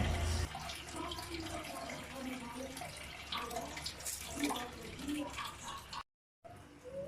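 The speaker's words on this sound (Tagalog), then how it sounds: "ilalagay natin ang pinaghugasan ng bigas" Rice-washing water poured into a cooking pot as broth for sinigang na bangus: a steady, close splashing pour that runs for several seconds, then cuts out briefly near the end.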